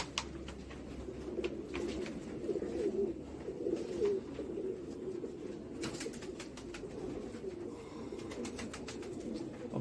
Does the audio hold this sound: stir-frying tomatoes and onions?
no